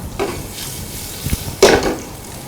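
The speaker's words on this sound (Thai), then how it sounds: "ใส่ทุกอย่างเนี่ยครับลงไปผัดเลยครับ" Ham and mushrooms sizzling and being stir-fried in a hot pan, with a few scraping strokes of a utensil, close up and without speech.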